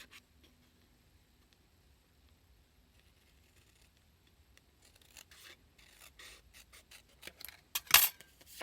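Paper being cut around a template for a junk journal craft project: quiet snipping and rubbing begins midway and grows into a busier run of crisp cuts, with one louder rasp near the end, no voices.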